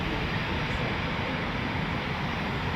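Eurofighter Typhoon FGR4 jet taxiing, a steady broad engine roar and hiss heard from some distance, unchanging across the short stretch with no clear voices.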